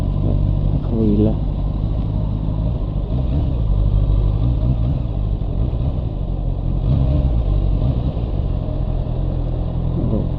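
A motorcycle rides through rush-hour traffic with many other motorbikes around, giving a constant loud engine rumble and wind roar with occasional revs; a rider talks briefly over the noise.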